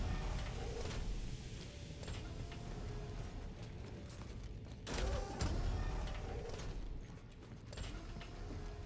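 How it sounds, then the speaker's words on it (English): A heavy sci-fi door mechanism in The Callisto Protocol grinds and creaks open, with mechanical clanks and a louder surge of machinery near the middle, set against a dense ambient game background. "The damn door."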